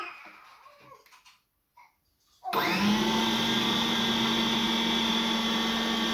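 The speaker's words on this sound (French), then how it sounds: "Donc on va le mettre à mixer." A blender purées cooked pumpkin and potato for baby food, starting abruptly after a few quiet seconds with faint talk, then whirring loudly and steadily without pause to the end.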